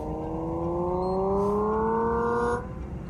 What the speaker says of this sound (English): I could change a setting so that this EV sounds as though it's running on gas.